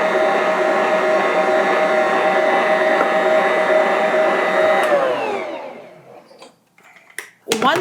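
A stand mixer kneading bread dough gives a loud steady motor whine with a constant pitch for about five seconds, then winds down and stops, leaving a few small clicks and knocks.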